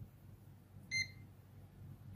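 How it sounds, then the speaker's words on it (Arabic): A single short electronic beep from a UT136C+ digital multimeter as a diode reading registers, clear and brief against a quiet background with no talking. "الصافره دي بيب واحده فقط بتدل على ان في قراءه ظهرت على الشاشه"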